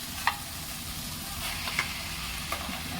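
A ground paste of onion, tomato and coconut sizzles and fries steadily in a pan, with a few soft clicks of stirring, heard fairly quietly.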